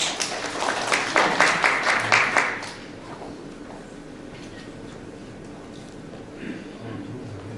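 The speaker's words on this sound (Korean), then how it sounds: "박수 부탁합니다" Short burst of clapping from a lecture audience welcoming a guest professor for a science talk, dense at first then dying away after about two seconds into quiet room noise.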